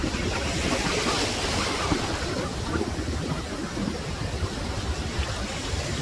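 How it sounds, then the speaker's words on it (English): Ocean surf breaks on a beach in a steady, loud roar of churning water, mixed with wind buffeting the microphone, with no distinct individual wave crashes standing out. "Look at those waves from this beach."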